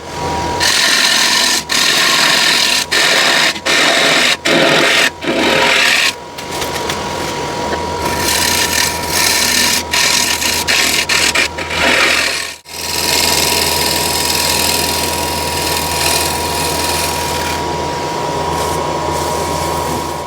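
A scraper cuts the inside of a wooden bowl spinning on a lathe, a steady loud whirring rasp broken by repeated brief pauses early on, then continuous scraping with a faint hum underneath.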